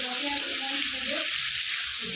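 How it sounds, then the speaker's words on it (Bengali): Garlic and chopped onion fry in a pan with a steady, close hiss of sizzling oil that runs through the whole stretch, with light stirring mixed in. "একটু এটাকে আমি ভাজা ভাজা করে দেবো"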